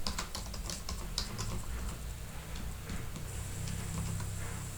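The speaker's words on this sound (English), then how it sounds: "Let's write the password, then confirm." A password is typed on a computer keyboard in quick, light, irregular keystrokes that run steadily at low volume.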